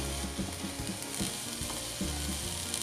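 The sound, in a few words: mixing boiled potato pieces in a hot pan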